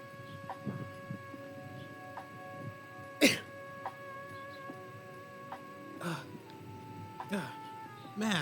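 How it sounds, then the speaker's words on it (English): A stifled attempt at a sneeze that never fully comes out: one short, sharp breathy burst partway through, over quiet, steady background music in an indoor setting. "when you have to sneeze but it doesn't come out?"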